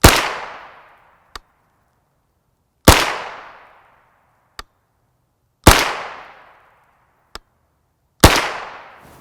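An AR-9 carbine with a 16-inch barrel fires 115-grain 9x19mm FMJ rounds in four loud, sharp gunshots spaced about three seconds apart. Each shot rings out with a decaying tail, and a faint click follows each one.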